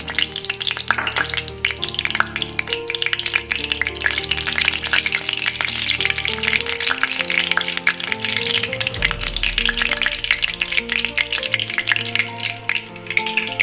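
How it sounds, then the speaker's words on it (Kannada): Cumin seeds crackle and sizzle in hot oil in a kadai for kadai paneer, a steady bright frying hiss with faint clinks of utensils, continuous and close, no voice over it. "ಹಂಗಾಗಿ ನಾನೀಗ ಜೀರಿಗೆ ಹಾಕ್ತಾ ಇದ್ದೀನಿ"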